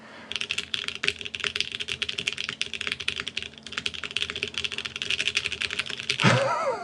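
Rapid, dense typing on a KBDFans Epoch 80 TKL mechanical keyboard, a steady close-up clatter of keystrokes running for several seconds before a louder sweeping noise cuts in at the end.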